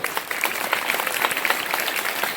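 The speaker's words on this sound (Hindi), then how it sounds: "उसके लिए भी एक बार जोरदार तालियां क्लास" Audience applause at a school Hindi Diwas celebration, brisk scattered clapping from a modest crowd, moderately loud and continuous with no talk over it.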